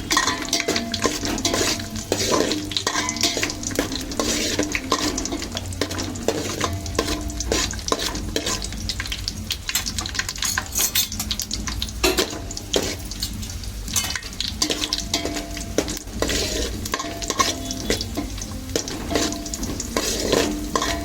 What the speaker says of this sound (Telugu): జీడిపప్పు, ద్రాక్ష, బాదం పప్పు వేసి ఫ్రై చేసుకోవాలి